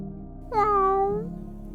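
A cat gives a single clear, drawn-out meow up close over a steady low background hum.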